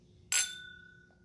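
Bourbon glasses clink together once in a toast, a bright, close ring that decays with a lingering tone before quiet returns.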